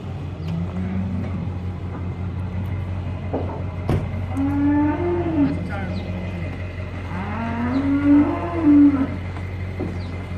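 Cattle at a farm lowing after an auction purchase, two long drawn-out moos a few seconds apart over a steady low rumble of background noise, moderately close.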